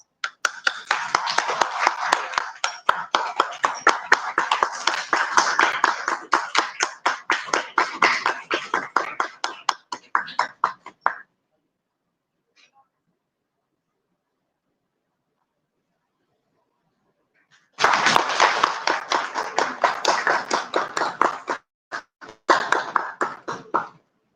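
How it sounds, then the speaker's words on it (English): An audience at a university architecture department's anniversary inauguration ceremony gives sustained, dense applause, fading out, falling silent for several seconds, then breaking into a second round of clapping. "please join me in offering our heartfelt congratulations to Professor Dr. A.M. Muqtadir"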